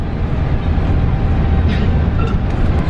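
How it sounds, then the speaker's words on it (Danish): Large vehicle rumble, steady and fairly loud, filling the street as a bus pulls in, heavy low engine drone throughout with faint higher hiss, no voices. "Det er vores bus."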